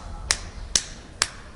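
Three sharp clapping slaps struck on the back of the hand, evenly spaced about half a second apart, crisp and close with quiet background between them.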